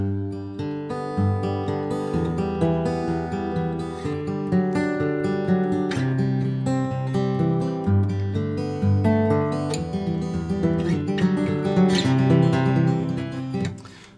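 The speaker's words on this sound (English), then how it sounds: "this one is going to be a Travis pattern, which is a very famous picking pattern" Acoustic guitar fingerpicked in a steady Travis pattern, an alternating bass under plucked melody notes, rolling evenly and clearly for about fourteen seconds with no talking.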